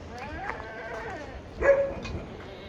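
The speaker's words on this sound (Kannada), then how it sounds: "ನಾಯಿಗಳು" Dogs in a resort pet zone give a few close, short barks and yelps amid a quiet outdoor background.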